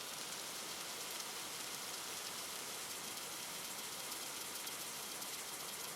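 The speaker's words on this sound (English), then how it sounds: "The rain, falling steadily now" Steady rain falls in an even, unbroken hiss for several seconds, quiet and distant, with no voices or other sounds.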